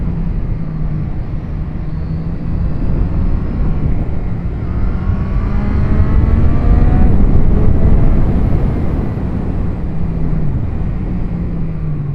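A 2026 Triumph Street Triple 765 RS three-cylinder motorcycle on a ride, its engine droning steadily with rising and falling pitch as it accelerates and shifts, buffeted by heavy wind rush, loud and close.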